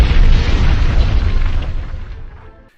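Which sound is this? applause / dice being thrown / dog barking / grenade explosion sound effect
grenade explosion sound effect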